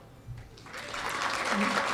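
Applause from an audience at a chamber of commerce community awards event, starting softly and swelling into steady, moderately distant clapping, with faint voices underneath.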